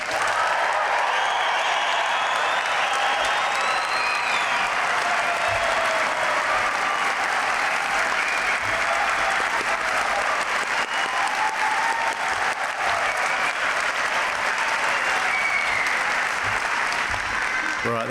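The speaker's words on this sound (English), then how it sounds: "just cut loose and cheer, whistle and clap for these guys" A graduation ceremony crowd claps, cheers and whistles in a long, dense, unbroken roar of applause that stays loud throughout with a few sharp whistles on top.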